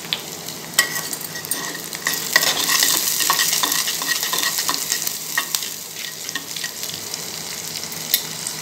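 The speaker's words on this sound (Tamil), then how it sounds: "ஆனியன் நல்லா வதங்கிடுச்சு" Onions fry in oil with cinnamon stick and salt while being stirred, a loud continuous sizzle punctuated by frequent scraping and clinking strokes of the spoon against the pan.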